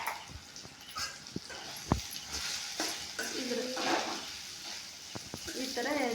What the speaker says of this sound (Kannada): ಈ ಥರ ಚೆನ್ನಾಗಿ ಎಣ್ಣೆಯಲ್ಲಿ ಎಲ್ಲ ಕಲಿಸ್ಕೋಬೇಕು.